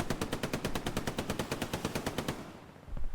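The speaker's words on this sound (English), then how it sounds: "We got one more MG here." Machine gun in the Hell Let Loose battlefield game firing a sustained rapid burst of evenly spaced loud shots for about two seconds, then cutting off as the echo trails away and a distant thump follows.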